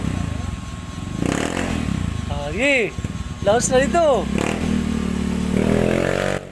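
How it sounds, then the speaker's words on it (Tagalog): A Honda Beat Fi v3 scooter, fitted with new flyballs, center spring and clutch springs, is revved close up in a series of rising and falling engine surges, with people talking over and between the revs. "Og dire gitistingan na sa tagiya iyang motor no."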